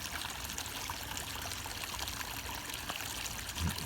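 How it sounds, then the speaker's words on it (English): Mineral spring water flows out of a rocky creek into a river lined with cypress trees, making a steady, faint trickling and babbling stream sound with no voices. "Good old mineral healing water flowing out into the river."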